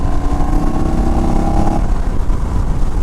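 An Indian Chief Bobber motorcycle rumbles loudly at close range while riding, its engine note holding steady before the pitch settles lower partway through.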